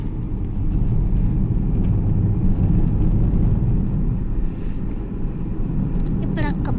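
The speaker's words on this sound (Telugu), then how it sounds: "ఇప్పుడు ఒక్క బండి వచ్చింది" A passing road vehicle rumbles loud and steady through the whole stretch, with broadband engine and tyre noise under occasional faint voices.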